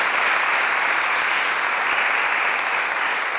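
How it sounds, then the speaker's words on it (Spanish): Loud, sustained applause from an audience at a book presentation for author Fermín Cabanillas in La Antilla, dense and steady clapping filling the room throughout with no pauses. "un fuerte aplauso para el protagonista de aquí, de hoy, que es Fermín Cabanillas."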